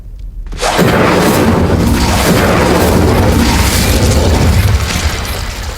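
An Incendio fire spell cast in Hogwarts Legacy erupts into a loud, sustained whooshing roar of flame that fills several seconds before easing slightly at the end.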